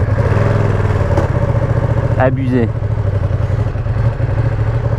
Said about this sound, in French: Attention, là on m'entend plus, ça devient juste du bruit de moteur.